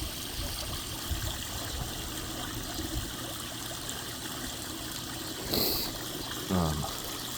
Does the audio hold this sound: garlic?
no